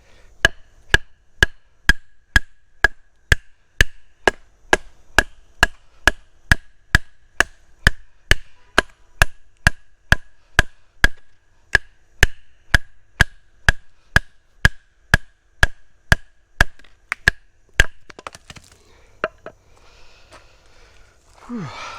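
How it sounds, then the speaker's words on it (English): Steady, evenly spaced sharp knocks of a baton striking the spine of a Harbor Freight knife to split wood, about thirty blows in a row, close and loud, ending in a rustle as the wood splits apart. "I would say that passed the batoning test."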